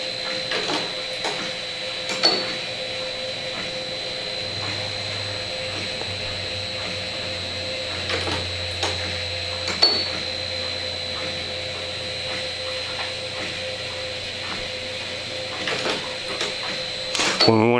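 An 1860s Pratt & Whitney rifling machine hums steadily with a constant whine, punctuated by periodic clanks and clicks as it works, with a person talking over the running machinery.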